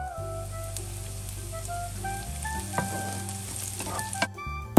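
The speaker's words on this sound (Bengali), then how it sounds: "মিডিয়াম হিটে 5 মিনিট সময় ধরে পেঁয়াজটা ভেজে নিতে হবে" Sliced medium-sized onion frying over medium heat for a chicken korma, a steady soft sizzle running throughout with a low background hum and a few light clinks near the end.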